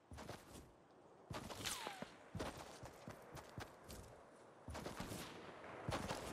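Gunshots ring out in a survival shooter video game, several sharp cracks scattered irregularly over steady low background noise, some close and others more distant, with no talk.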